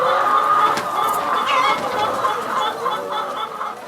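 Laying hens cluck steadily in a poultry house, a dense, continuous chorus of many birds close by, loud and without any talk.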